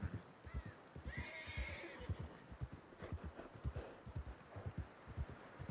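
White horse in the Red Dead Redemption 2 video game neighing and whinnying with steady clip-clop hooves, fairly quiet and close, no talk.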